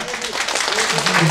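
Festival crowd at a Korean beef barbecue festival in Daejeon applauds a comic pumba drumming performance, brief clapping heard under overlapping voices and talk.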